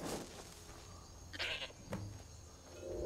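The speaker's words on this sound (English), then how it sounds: "Let's get this goat back." Goat bleating in the Skyrim video game, a couple of short nasal calls rising out of a steady game background with no talking.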